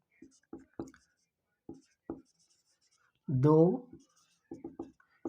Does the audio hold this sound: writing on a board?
yes